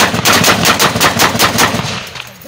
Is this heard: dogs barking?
no